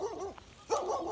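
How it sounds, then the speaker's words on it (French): A dog barks and whines near a campervan parking site, two moderate close yelps separated by a brief pause. "Ah, il y a des chiens aussi."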